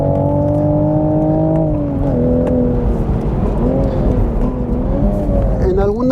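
A 2023 Toyota Supra with a manual gearbox revs hard while driving, its engine pitch climbing and falling through the gears as someone talks over it.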